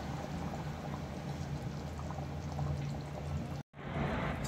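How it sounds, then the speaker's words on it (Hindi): Soaked rice tipped into a pot of water at a rolling boil for chicken yakhni pulao, giving a steady close pouring, bubbling wash with a brief dropout near the end and no talk. "पानी अच्छा बॉईल हो रहा है, अब इसमें हम ये सोख करा हुआ राइस डाल देंगे।"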